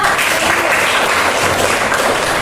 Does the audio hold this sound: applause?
yes